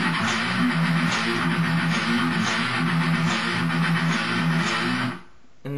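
Two electric guitars playing a riff together, a moderately quiet, bouncy rhythmic pattern of repeated plucked notes lasting about five seconds before cutting off.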